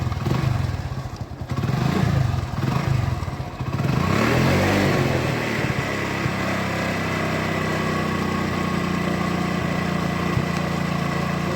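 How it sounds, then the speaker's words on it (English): A small vehicle engine on a mechatronics drunk-driving prevention prototype clatters as it is started and then settles into a steady, close, loud idle. "Now we have to start the engine."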